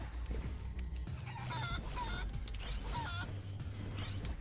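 Chickens clucking in the video game Guacamelee 2, several short, rising clucks and squawks scattered over a busy, steady game soundtrack and effects, moderately loud, with no talking.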